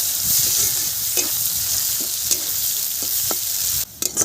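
Onions sizzle in hot oil with garlic and dried chili, a loud continuous frying hiss close up, broken by a few sharp stirring clicks near the end.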